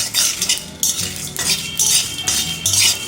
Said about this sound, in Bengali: এবার এগুলোকেও ভালো করে ভেজে নিতে হবে।